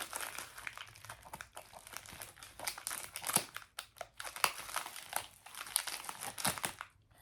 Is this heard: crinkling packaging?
yes